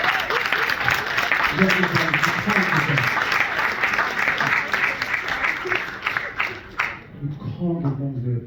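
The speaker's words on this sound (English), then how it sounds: "Round of applause for all mums" Audience applause fills a poetry performance event for about seven seconds, dense and steady, while a voice speaks over it before the clapping drops off and talk continues.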